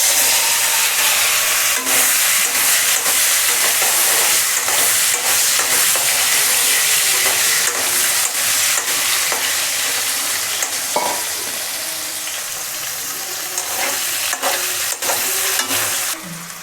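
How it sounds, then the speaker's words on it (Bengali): Sliced potatoes coated in salt and turmeric frying in a pan, a loud, continuous sizzle with occasional scraping and stirring clatter, close up and without any talk. "আলুটি এখন একটু ফ্রাই করে নিলাম আগে।"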